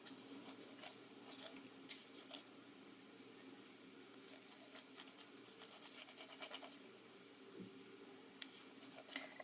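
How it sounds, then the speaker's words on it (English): A burnishing tool rubs around the copper-foiled edge of a stained glass piece, producing faint, continuous scratchy rasping strokes close by with occasional small clicks. "we take our burnishing tool, go around the perimeter"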